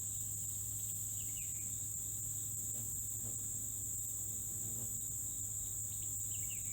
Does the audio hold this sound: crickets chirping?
yes